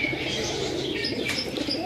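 Pigeons coo softly in a loft or aviary, several birds with low throaty cooing mixed with occasional chirps and faint wing flutters, steady and fairly quiet throughout.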